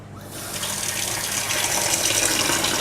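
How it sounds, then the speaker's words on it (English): Tap running steadily into a sink, filling it with cold water to cool a container of lye for soap making; a continuous close splashing gush that builds slightly in loudness. "fill my sink with cold water"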